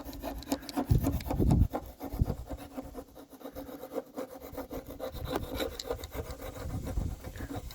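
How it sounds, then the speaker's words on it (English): Plastic scraper working butyl tape and sealant off a truck cab around the rear window, giving a steady close rubbing, scraping rasp in repeated strokes, louder bursts early then continuous rough friction. "we'll start on some scraping of both the butyl and the whatever sealant is on the cab"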